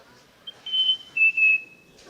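A person whistles an imitation of a black-capped chickadee call: two clear, sustained high notes, the second slightly lower, whistled close and alone in a quiet room.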